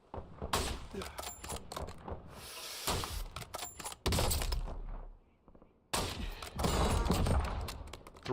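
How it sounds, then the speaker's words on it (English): Gunfire in Warzone, a burst of sharp shots and echoing cracks in quick succession with some pauses, heard against a player's voice. "He was shooting at someone else up the hill."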